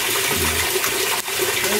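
Water gushes loudly and steadily into a washing machine, a close, continuous rushing pour.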